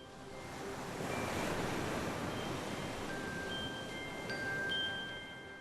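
Waves breaking on a sandy beach, a broad steady roar of surf that swells and eases, with a few faint thin tones drifting over it in the second half.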